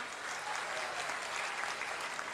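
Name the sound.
crowd clapping to welcome district president at rally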